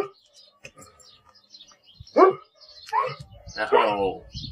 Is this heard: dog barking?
yes